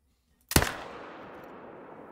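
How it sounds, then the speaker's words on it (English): A single loud rifle shot rings out at a whitetail deer in the hunting game The Hunter: Call of the Wild, a sharp crack followed by a long rolling echo that fades across the remaining seconds. "I want to make sure I get a good lung shot on him"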